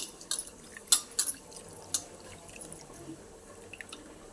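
Barnyard millet being rinsed in water in a kitchen, soft sloshing with a few sharp drips and splashes near the start, quiet and close with no voices.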